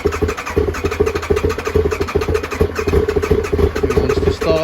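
A Kawasaki Ninja ZX9R motorcycle engine cranks and sputters as it tries to start, a loud, steady rapid churning with uneven pulses that carries on for several seconds before briefly dipping near the end.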